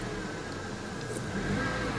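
A 1999 Toyota Corolla engine idles steadily just after an oil change, a low continuous hum with no talk.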